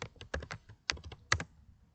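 Quick clattering keystrokes on a computer keyboard as a pip install command is typed in a terminal, a close burst of taps with brief pauses, no voices.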